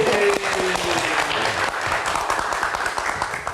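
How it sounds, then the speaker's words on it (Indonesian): Audience applause at a live talk show, a thick burst of many people clapping that stays loud throughout, with a faint voice and a fading tone heard briefly at the start. "Tepuk tangan sekali lagi dong."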